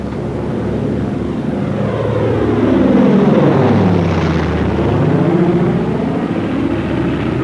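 A Douglas A-20 bomber dives with a loud, sustained propeller engine roar that rises and shifts in pitch as it sweeps past, a classic Doppler swell heard alone without talk.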